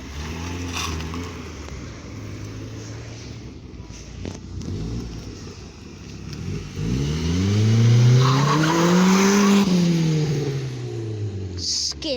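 A car leaving a classic car meet at a countryside inn revs hard and skids its tyres, the engine note rising and falling as it pulls away close by, over steady background crowd noise.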